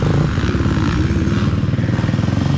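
A Triumph TF-250X motorcycle engine runs loud and close with a steady, rapid pulsing idle-to-low-rev drone and no speech over it.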